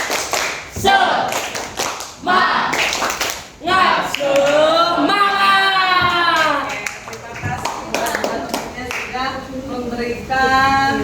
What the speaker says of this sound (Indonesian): kita beri tepuk semangat buat temennya. Tepuk semangat.